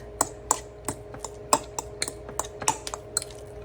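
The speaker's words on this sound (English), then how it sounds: "I put a whole bunch in there and I mash it on up." Avocado mashed and mixed with dairy-free mozzarella in a bowl, heard as a run of sharp, regular clicking taps of a utensil against the dish, close and fairly quiet.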